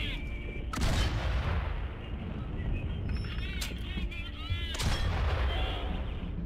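Gunfire in the World War I video game Valiant Hearts: The Great War, several loud booming shots spaced a few seconds apart over a rumbling battlefield background, with a voice talking briefly between them.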